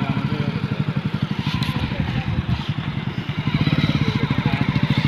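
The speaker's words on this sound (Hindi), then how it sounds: "ट्रैक्टर चला के दिखा रहे हैं" A Sonalika tractor engine runs while being driven, giving a steady, close diesel chugging with rapid regular pulses that swell slightly near the end.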